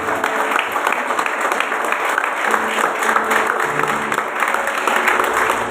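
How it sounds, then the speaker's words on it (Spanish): A church congregation bursts into loud, steady applause during a sermon, the dense clapping sustained throughout with a faint voice underneath at times. "Dele un fuerte aplauso al Señor."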